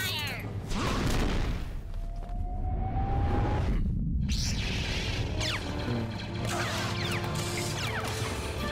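Battle droids fire blasters at Yoda in a loud, busy reenactment, with crashes, whooshes and rapid zapping bursts layered over a constant rumble, while voices shout over the barrage.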